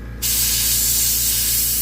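An airbrush sprays paint onto a tabletop kill team miniature, giving a loud, steady, close hiss that starts abruptly and then holds constant with no pauses.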